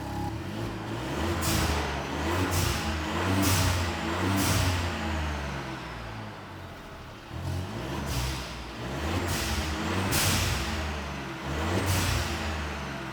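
A 1.0 TSI car engine with its exhaust resonator deleted idles with a deep, throaty burble, revving up in several repeated bursts that rise and fall, close and loud, with no talking.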